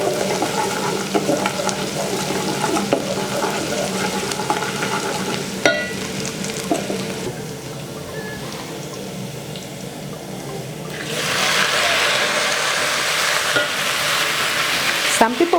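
Onions sizzle and fry in a pan while catfish is prepared, a steady close hiss throughout that grows louder and brighter toward the end.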